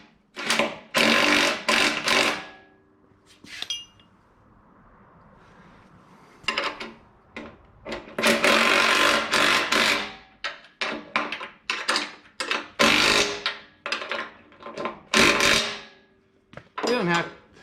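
Metal bracket nuts being tightened during a 2022 Kenworth W990 log truck build, heard as bursts of clanking, ratcheting and tool clatter in close, irregular runs separated by short quieter gaps.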